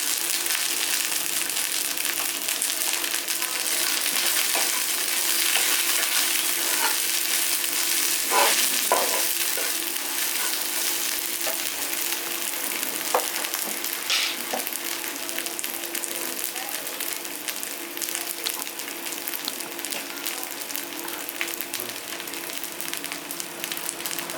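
Ginger paste and turmeric fry in a pan for egg curry, giving a loud, steady sizzle throughout with occasional stirring scrapes and taps.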